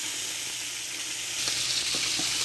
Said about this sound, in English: I have some peppers and onions sauteing in some oil